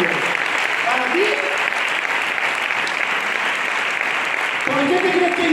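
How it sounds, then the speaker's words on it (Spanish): A church congregation claps loudly and continuously during a Spanish-language sermon, with a voice speaking over the applause at the start and again near the end. "Fuerte el aplauso al Señor."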